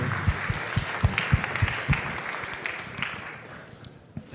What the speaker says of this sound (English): Just a round of applause for Pratik